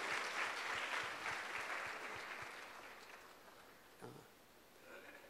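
A congregation at a Sunday church service claps for a school sports trophy winner. Broad applause starts full and gradually dies down, leaving only faint room noise.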